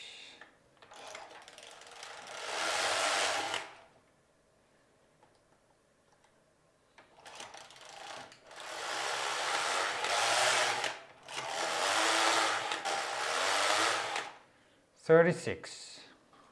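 A Passap Duomatic 80 knitting machine carriage sweeps across while knitting a child's sweater, giving several long rasping, clattering passes separated by quiet pauses, close and fairly loud, with a sharp mechanical clack at the end.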